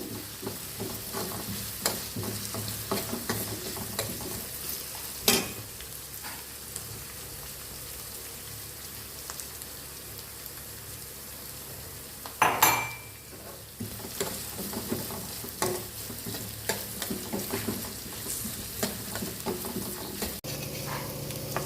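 Crushed ginger and garlic fry in hot oil for a mutton pepper dry, a steady close sizzle with occasional stirring scrapes and a sharper clatter midway.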